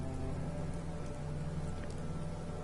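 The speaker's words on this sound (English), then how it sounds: "I hear rain." Steady rain in the video game Fallout 4, a soft continuous hiss of falling drops under a low hum, even and unbroken throughout.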